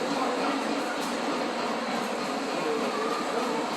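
A model train runs around a large circular layout on an elevated handmade trestle at a hobby festival. It makes a continuous, even rolling rumble with steady clatter and no pauses.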